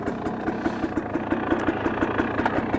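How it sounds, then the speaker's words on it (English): A two-stroke dirt bike engine idles during warm-up, running loud and close with a steady, slightly uneven pulsing putter and no talk. "It's idling fine"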